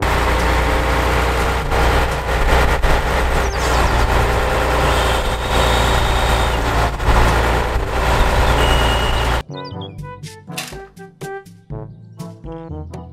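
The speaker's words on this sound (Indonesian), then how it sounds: "Mobil truk derek." A tow truck idles in a heavy, loud drone with intermittent beeping, then cuts to a sparser passage of sharp separate bursts for the last few seconds.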